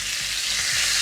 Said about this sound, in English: You can let your spoon get hot in the oil. You touch it to the fat, that'll help sear it.